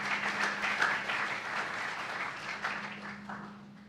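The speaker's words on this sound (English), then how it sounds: "Give yourselves a round of applause for being here." Audience applause at a community meeting on immigration, a moderate spread of clapping that swells early and then gradually fades, with a faint steady hum beneath.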